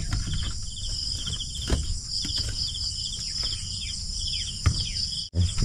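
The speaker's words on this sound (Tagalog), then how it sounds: "Dinig na dinig yung mga kapangil, mga kuliglig" Crickets chirp steadily in the rural morning, a dense continuous high trill close by, with a few faint bird calls and soft knocks mixed in.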